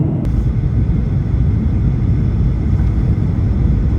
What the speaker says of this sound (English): Now the plane is going down and soon we'll be landing at Entebbe International Airport in Uganda.